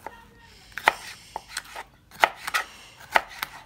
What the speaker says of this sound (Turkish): Biberleri böyle böyle doğrayıp bunun içine böyle atalım